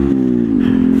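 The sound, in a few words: Grom motorcycle revving and tire squealing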